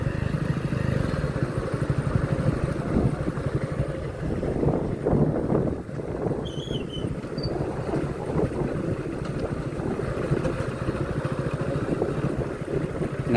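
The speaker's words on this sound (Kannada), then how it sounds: "ಇವಾಗ ಆರಾಮ್ಸೆ ಹೋಗ್ತಾ ಇದೆ." A motorbike rolls downhill from a hilltop viewpoint on the Mallappakonada Hills, its engine a steady low drone mixed with wind rush and some clatter, close and continuous with no talking.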